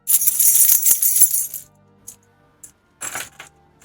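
A bunch of keys is jingled to get attention, a bright metallic rattle for over a second, then silence, then a shorter second shake.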